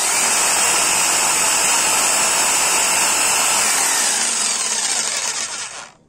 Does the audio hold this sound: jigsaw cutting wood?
yes